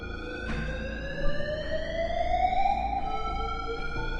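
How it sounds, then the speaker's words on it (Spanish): Emergency door alarm going off in a hospital building, a steady electronic siren tone that slowly sweeps upward in pitch, moderately loud and continuous over a low background rumble, no voices. "Por tercera vez abrió la puerta de emergencia y se encendió la alarma."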